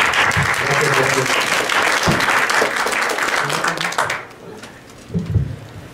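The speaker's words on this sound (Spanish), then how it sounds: "démosle un aplauso, por favor" An audience applauds a speaker at a poetry colloquium, a loud burst of clapping that fades out around the four-second mark, followed by brief scattered sounds and a voice near the end.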